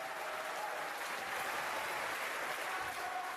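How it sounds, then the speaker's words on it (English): A short burst of dense, sustained applause from a large crowd, steady and full, with no voices standing out. "To roaring applause, the young star conductor Tarmo Paltakoski fulfills a childhood dream."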